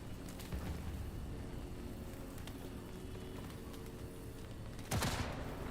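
Distant gunfire in the video game Cyberpunk 2077, scattered muffled shots over a rumbling background, with one louder sharp burst near the end.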